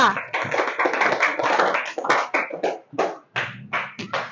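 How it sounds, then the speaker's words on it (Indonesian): A classroom group claps for a student team after their presentation, a short burst of close hand claps that breaks into uneven, scattered claps toward the end. "Tepuk tangan dulu untuk kelompok 2."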